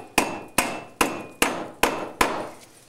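Six sharp hammer blows drive inch-and-a-half galvanized joist hanger nails, evenly spaced and close, each a bright ringing strike with a short metallic decay, no voices.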